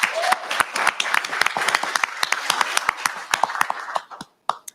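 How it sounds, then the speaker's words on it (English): Applause for a student at a Yukon Public Schools awards event: a crowd claps steadily at close range for about four seconds, then the clapping thins out to a few last claps and fades. "A round of applause for Mr. Luke Brush"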